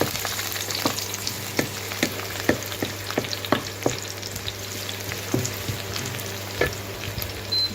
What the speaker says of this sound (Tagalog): garlic, saute the garlic.